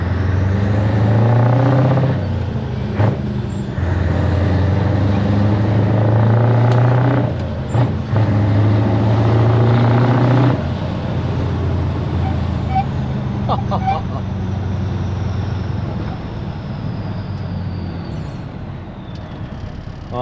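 A Scania 143 500 V8 truck engine runs loud and steady, its deep rumble swelling with revs and then settling, with a brief hiss like an air brake partway through.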